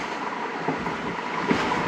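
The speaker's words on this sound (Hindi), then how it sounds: "तो अचानक से हमें गुजरती हुई नज़र आई 7 अप तेज़ गाम" Tezgam 7 Up express passing by on the Pakistan line near Chichawatni, a steady broadband rumble and rattle of the train running close with faint clickety-clack over the rails, no voices.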